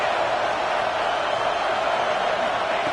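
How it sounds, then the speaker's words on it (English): A football stadium crowd on third down keeps up a loud, steady roar of cheering with no break. "Third down, and the crowd really getting into it."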